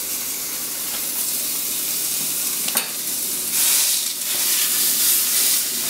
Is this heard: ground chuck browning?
yes